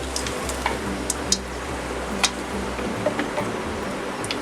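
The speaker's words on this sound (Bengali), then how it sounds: "এর মধ্যে আমি একটু 1 চা চামচ মতো জিরে, গোটা জিরে দিলাম ফোড়নে, তেজপাতা দিয়ে দিলাম।" Whole cumin seeds and bay leaves sizzle in hot oil, a steady close frying hiss broken by a few sharp crackles and light spoon clicks.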